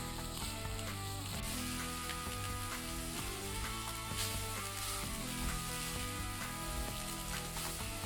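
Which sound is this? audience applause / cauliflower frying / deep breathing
cauliflower frying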